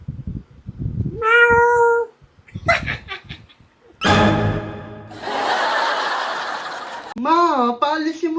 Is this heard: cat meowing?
yes